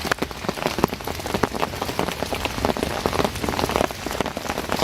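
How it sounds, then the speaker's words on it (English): Steady rain falling at a fishing lake, a dense close patter of drops hitting surfaces that carries on unbroken, with no talking. "as you can hear, the rain has well and truly arrived now."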